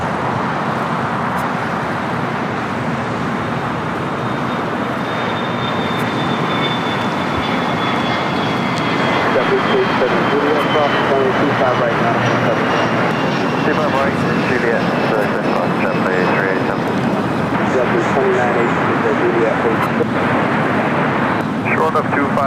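Airbus A380 engines at LAX, a loud, sustained roar and whine that swells midway and stays strong, with people talking over it and traffic noise in the background.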